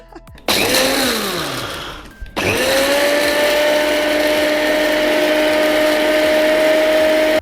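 A kitchen blender grinds dry oats into flour for pancakes, starting loudly, briefly cutting out, then restarting and running as a steady, close, high-pitched whirr with no one talking.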